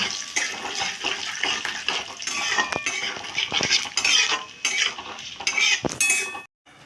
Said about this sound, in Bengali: এবার মশলাগুলোকে আমি একটুখানি তেলে ভেজে নিচ্ছি